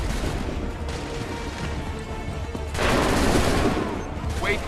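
Musket volleys ring out in the Assassin's Creed III video game, with a rumbling burst of massed gunfire swelling partway through over a noisy battlefield background.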